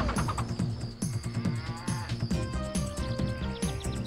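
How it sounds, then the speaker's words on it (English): A cow moos in the PS1 video game Lomax, sounding through busy, rhythmic game music with steady beats and melodic layers throughout. "There's a cow moving in the background,"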